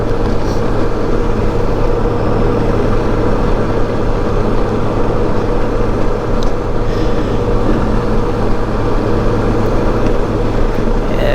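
Honda Goldwing trike cruising down the road, a steady low engine drone with heavy wind rush running unbroken and fairly loud throughout, with no voices.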